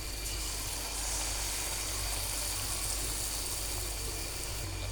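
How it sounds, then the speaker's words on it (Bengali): Banana pitha frying in hot oil over low heat gives a steady, dense sizzling hiss that runs unbroken throughout at moderate volume. "এখানে তেলটা আমি গরম করে নিয়েছি আগেই, এই যে ভেজে নেব।"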